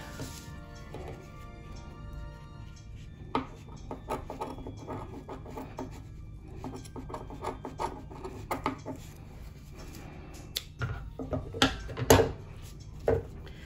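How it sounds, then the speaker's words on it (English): Scissors trim felt edges for a DIY wreath, giving soft, scattered snips and rubbing scrapes at close range over a faint background hum, without speech. "I'm going to trim out some of this edge, see if I can get that more defined"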